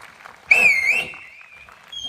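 An audience member lets out a loud, shrill two-finger-style whistle that rises and wavers for about half a second, then fades over faint room murmur.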